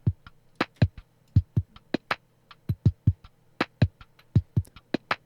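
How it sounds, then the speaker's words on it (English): A lazy, edited hip hop drum loop of punchy kicks and crisp snare and hat hits in a relaxed, slightly uneven groove, dry and close with no voices. "And then I've just got this kind of lazy drum loop."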